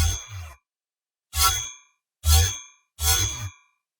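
Magic weapon sound effect for a Unity 3D game, pitch-shifted and modulated: four bright metallic clangs with low thumps, each ringing about half a second, separated by silence, loud and close.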